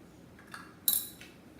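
A spoon scrapes and taps against a mixing bowl while pushing flour off during mixing of dairy-free, oil-free vanilla waffle batter: a few quiet scrapes, then one sharper metallic clink, close and faint.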